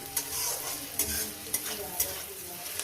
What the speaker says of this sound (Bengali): চিংড়িটাকে এই পেঁয়াজের সঙ্গে ভেজে নিন